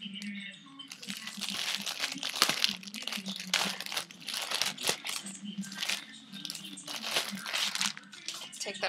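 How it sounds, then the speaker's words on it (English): Clear plastic wrap crinkles and crackles almost continuously while a purse organizer is unboxed, a close, busy rustling with brief louder crunches and no talk over it. "It comes in plastic wrap, like that."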